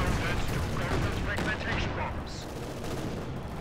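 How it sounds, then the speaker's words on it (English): Mortar and gunfire in a Company of Heroes 2 battle, a steady dense crackle of distant explosions and shots with a muffled rumble throughout, loud and continuous. "So I do have some mortar fire going."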